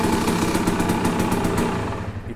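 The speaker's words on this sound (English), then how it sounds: "It runs good. It holds the idle. It would idle forever." Motorcycle engine fitted with a Lectron Billetron Pro Big Air carburetor idles steadily, a loud, close, even rumble with light mechanical clatter that eases slightly at the end.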